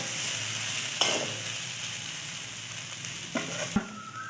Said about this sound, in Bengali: এবার এটাকে একটু নেড়ে নেব।